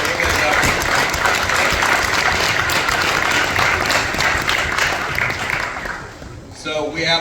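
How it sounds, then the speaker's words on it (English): Sustained applause from a banquet crowd honoring a varsity offensive line, dense steady clapping filling the room for about six seconds before tapering off, with a voice picking up talk at the end. "we'll just give them a round of applause right now"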